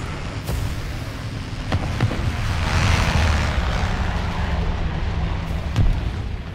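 Tank cannon fire and engine rumble in the War Thunder game, with a few sharp booming shots over a constant heavy low drone and no voices.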